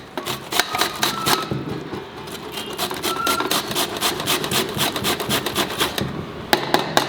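Bottle gourd grated by hand for halwa, with a steady series of quick rasping strokes that pause briefly partway through before resuming, close up and with no talking.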